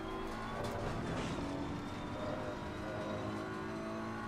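GT3 race car engine in Assetto Corsa Competizione at the Hungaroring circuit, a continuous revving drone with shifting pitch, held at high revs and steady moderate loudness throughout with no talk.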